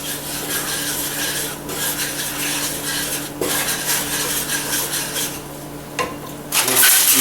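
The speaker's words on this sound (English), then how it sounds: "I'm just going to do a blonde roux here" A utensil stirs and scrapes flour through pan drippings for a blonde roux, giving a steady close rasping rub with a few brief louder scrapes and no talk.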